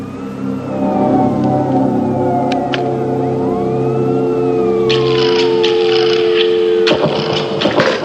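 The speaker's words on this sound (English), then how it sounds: "do I hear sirens?" Police sirens wail in rising and falling sweeps over a low steady hum, holding fairly close throughout with a sharp clatter near the end.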